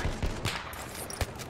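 Several gunshots from the Battlefield 1 video game, sniper fire among them: sharp thumps near the start and another crack later, over dense battle noise, no talk.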